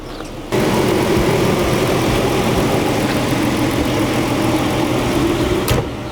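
A Chrysler 200S with a V6 engine idling, a steady close rumble that starts abruptly after half a second and holds evenly to the end, with no talk over it.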